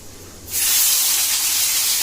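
Onions hit hot oil in a pan for a Tamil seafood dish, bursting into a loud, bright sizzle about halfway through that holds steady to the end.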